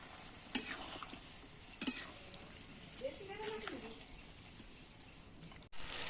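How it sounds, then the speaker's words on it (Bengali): Water has just gone into a pan of coriander chicken, which is then stirred with a few scrapes and taps over a soft simmer, quiet and close, with a voice talking over it. "জলটা দিয়ে একটু নেড়ে নেব"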